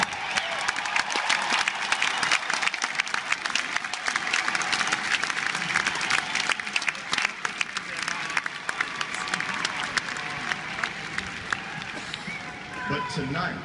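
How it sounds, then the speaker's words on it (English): An audience at a Kiss Hall of Fame induction ceremony applauds in a steady, sustained roar of clapping from a large crowd, continuing evenly throughout. "they deserve a round of applause."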